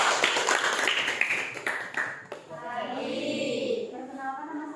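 An audience claps briefly after a group presentation at a school session, a short burst of hand clapping that fades out, followed by a voice speaking.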